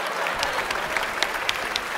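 Audience applause during a Vietnamese stage comedy, dense steady clapping with sharp individual claps, loud and continuous.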